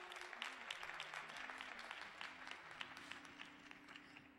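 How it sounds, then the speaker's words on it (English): Applause from the audience at a Saturday morning community forum welcomes a city treasurer candidate. The dense, faint clapping continues for several seconds over a low steady tonal hum. "Give her a round of applause as she comes."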